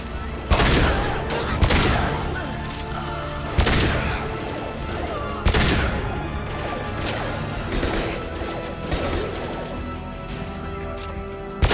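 Repeated gunshots and heavy impacts from Mass Effect 2 combat, loud sharp bursts in irregular volleys over a busy din of action, with a few spoken voices mixed in.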